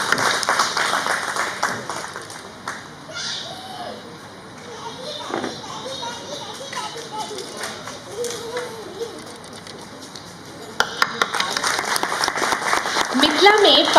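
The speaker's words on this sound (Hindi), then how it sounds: "जोरदार तालियों से स्वागत कीजिए।" Loud audience applause welcoming guests being honoured with the traditional paag and dupatta at a Vidyapati Samaroh cultural gathering in Singapore. The clapping swells, dips, then surges again at the end, with chatter and a voice running underneath.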